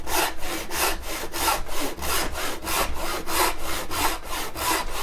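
A hand saw cuts through pallet wood in steady back-and-forth strokes with no downward pressure, a dozen rasping passes in an even rhythm, close and fairly loud.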